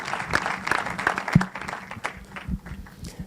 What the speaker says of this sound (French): Viens t'installer s'il te plaît, sous les applaudissements, à côté de Romain.